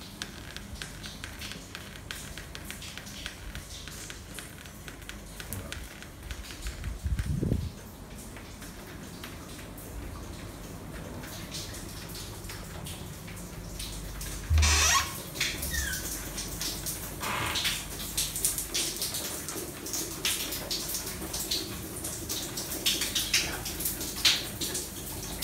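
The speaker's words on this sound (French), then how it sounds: "Il pleut de plus en plus" Heavy rain pours down on the Perhentian Islands in Malaysia, a dense, steady hiss lasting throughout, with a couple of louder bursts and thumps and no speech.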